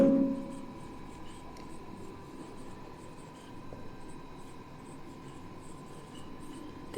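Pen scratching on paper while noting down accounting entries, a faint continuous scribble close by over a low steady background hum, no speech.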